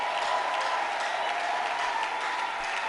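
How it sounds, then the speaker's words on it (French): A church congregation applauding together during a Sunday service, a steady, dense wash of clapping that holds evenly throughout without pauses or distinct voices. "Tout le monde est en train d'acclamer sauf toi."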